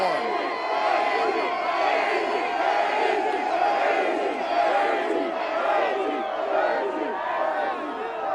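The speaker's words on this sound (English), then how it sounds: "It's been a very loud and boisterous crowd" A large, boisterous street crowd celebrating a Green Bay Packers win, with decorated cars around, roars continuously with overlapping shouts and whoops at a steady high level.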